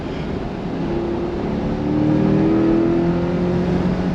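An all-wheel drive Corvette E-Ray accelerates hard on a race track, its engine a steady, loud droning roar that climbs in pitch and swells slightly louder midway through, with no talking over it.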